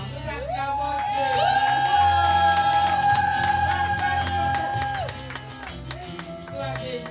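Church conference crowd cheering and acclaiming, a dense wash of voices with whoops and some clapping, loud and continuous, while a sustained sung or shouted tone rises above the crowd in the middle.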